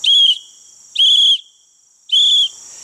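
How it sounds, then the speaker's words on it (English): Three sharp blasts from a pewter whistle, each short and shrill, evenly spaced with brief pauses between them, close and loud against a quiet background. "This is a pewter whistle."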